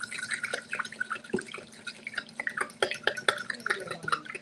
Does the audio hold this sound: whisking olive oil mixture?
yes